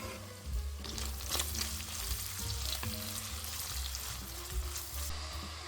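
Steady crackling sizzle of bacon and onion frying in a little fat in a pot, continuous and close, with occasional sharper pops and a low hum beneath.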